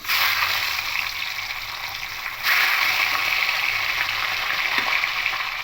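Carp fish heads fry in hot mustard oil in a kadai, giving a loud, steady sizzle and crackle that swells a little partway through, with no talking.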